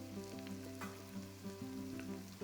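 Garlic cloves and ginger frying in a pan for chicken salna, a strong continuous sizzle up close with some stirring clatter and a faint tonal hum underneath, no talking.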